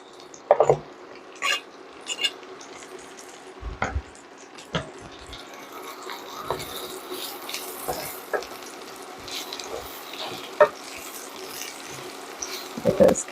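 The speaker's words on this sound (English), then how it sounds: "we've got 8 ounces of button mushrooms that we have sliced up. We're going to cook those in our drippings right here." Eight ounces of sliced button mushrooms cook in bacon drippings in a skillet, giving a steady, close frying hiss with intermittent clinks and stirring scrapes and no voices.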